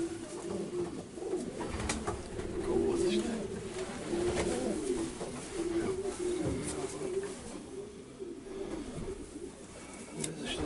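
Pigeons coo steadily inside a Romanian racing-pigeon breeding loft, a dense chorus of overlapping low throaty calls that carries throughout with no speech.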